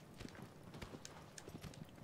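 Horse hooves clip-clopping in the video game Shadow of the Colossus, a quiet, steady trotting rhythm of soft repeated hoofbeats at a moderate distance with faint background ambience.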